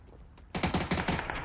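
Gunfire from a PUBG esports league match bursts in suddenly after a quiet start, a rapid string of sharp, evenly spaced shots, fairly loud, with no voices over it.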